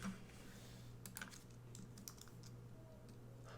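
Typing on a computer keyboard at a student sign-in station: light, close keystrokes tapping in a quick, irregular run over a faint steady hum, with no talking.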